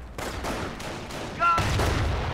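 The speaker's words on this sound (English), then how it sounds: "Rifle squad taking fire!" Bursts of gunfire crackle in Company of Heroes during a World War II assault on Omaha Beach, with several sharp volleys in quick succession and a brief shouted voice mid-burst.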